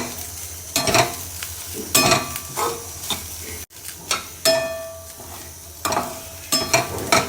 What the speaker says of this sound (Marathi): सगळं छान एकजीव करून छान भाजी परतून घेणार आहे